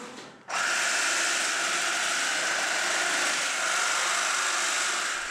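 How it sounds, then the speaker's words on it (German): After a moment of quiet, a chainsaw in a slaughterhouse roars to life and runs at a steady, loud, high-pitched whine, close by. "ziemlich flott an der Kettensäge"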